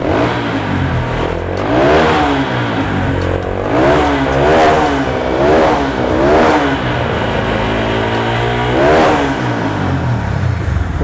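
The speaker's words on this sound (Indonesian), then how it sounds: "Yuk kita coba gimana suara knalpotnya gitu." Custom Honda Verza motorcycle with the dB killer fitted in its exhaust, revved repeatedly up close, the engine swelling and dropping in about half a dozen throttle blips over a steady idle, with no talking.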